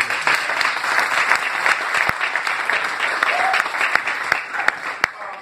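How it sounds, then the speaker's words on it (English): A live audience at a motivational speaking event gives a steady round of applause, with a few sharp individual claps standing out as it thins near the end. "So if anybody deserves a round of applause, give it back up to him."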